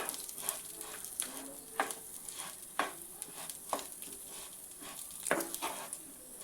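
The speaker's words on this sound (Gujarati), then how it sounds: "હવે દાળને આપણે ઘીની સાથે સારી રીતે શેકી લઈએ।" Moong dal roasting in ghee with a soft steady sizzle, broken by a few light scraping stirs of a spoon in the pan.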